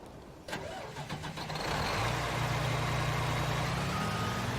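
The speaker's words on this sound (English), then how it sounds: "Let's go get that sugarcane harvester running." In the video game Farming Simulator 19, a sugarcane harvester engine cranks over in a few quick bursts, catches, and settles into a loud, steady idle rumble.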